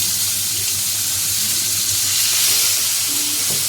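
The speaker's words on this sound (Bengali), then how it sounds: "এই যে ফোড়ন দিয়ে দিলাম জিরে আর শুকনো লঙ্কা টমেটো কুচি দিয়ে দিলাম" Cumin, dry red chilli and chopped tomato sizzle in hot oil in a pan, a dense, loud, steady frying hiss throughout with faint stirring clinks near the end.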